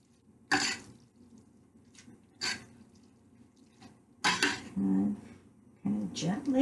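Fettuccine tossed in a pan with olive oil, four separate clattering bursts of metal and wet noodles sliding and slapping, with quiet pauses between them.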